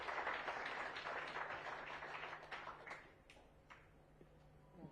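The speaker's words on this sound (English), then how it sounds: "please join me in extending a warm and enthusiastic welcome with a huge round of applause" Audience applause welcoming a guest of honor at a Rotary Club environmental event, a dense wash of clapping that starts full and thins out over a few seconds into scattered claps, heard from a distance.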